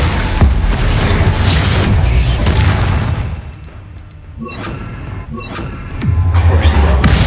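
Spell blasts and explosions in the Hogwarts Legacy video game, with loud booming impacts, crackling bursts and thuds in rapid succession, briefly dipping quieter before heavy blasts resume.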